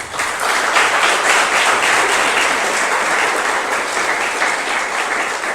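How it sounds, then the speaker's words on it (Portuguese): A church congregation applauds steadily, a dense, even wash of many hands clapping that holds at full strength throughout. "Vamos aplaudir a Jesus?"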